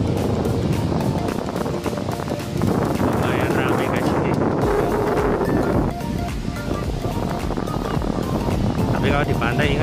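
Waves roll and crash steadily on Petanahan Beach in Kebumen, Indonesia, while wind buffets the microphone, a constant loud roar throughout.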